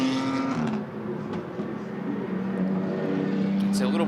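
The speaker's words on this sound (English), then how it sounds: "Look at him drift the car through here" GT4 race car drifting through a turn at Indianapolis Motor Speedway, its engine droning steadily with shifting pitch at mid distance, under continuous commentator talk.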